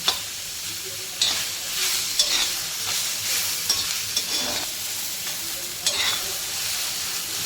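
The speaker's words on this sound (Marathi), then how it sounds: "तो पण ह्याच्यावर फ्राय करून देणार कांदा आणि टॅमॅटो याला व्यवस्थित शिजून द्यायचं आपण" Onion and tomato frying in a pan for a spicy prawn masala, a steady sizzle broken by repeated stirring scrapes at irregular intervals, close and alone without talk.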